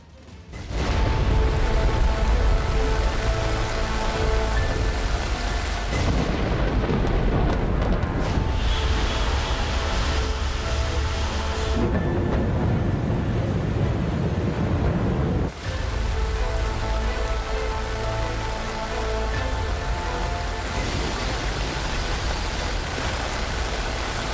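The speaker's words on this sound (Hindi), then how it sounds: "मुंबई में बर्बादी की बारिश।" Heavy rain pours steadily in Mumbai, a loud dense wash of falling water that continues the whole time, with brief changes in texture and a low rumble underneath.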